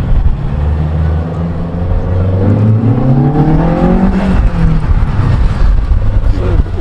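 A Toyota SR5 with a five-speed gearbox and about a million kilometres, its engine running loud and close, the tone rising and falling as it revs, with steady low rumble beneath.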